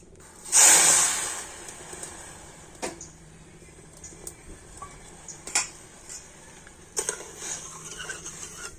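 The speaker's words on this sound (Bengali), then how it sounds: "চিনিটা এখন আমি ফ্রাই প্যানে দিয়ে দিচ্ছি আর ওই বাটি মেপে এক বাটি জল দিয়ে দেব" Sugar and a bowl of water go into a hot frying pan, setting off a loud, brief hissing burst followed by quieter clinks and scrapes of utensils on the pan, with no clear speech.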